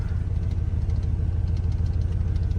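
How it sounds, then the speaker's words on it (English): A Chevrolet Silverado 2500HD pickup, rebuilt from a salvage yard, idles close by with a steady low rumble and faint rhythmic ticking over the engine drone, no talking. "It's idling now."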